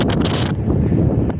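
Strong gusts of wind buffet the microphone on a cloudy mountain hiking trail to the Mount Defiance summit in Oregon, a loud, close, rushing roar with rustling that lasts throughout.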